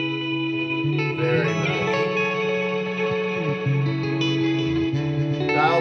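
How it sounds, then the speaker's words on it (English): Electric guitar played through a Fender all-in-one amp on an ambient wash preset with compression, '65 Twin amp model, delay and hall reverb: sustained chords swelling into a dense, echoing wash, steady and loud throughout, with a brief spoken comment. "let's move on to preset number 5, which is ambient wash. This one includes compression, a 65 twin amp, delay, as well as hall reverb."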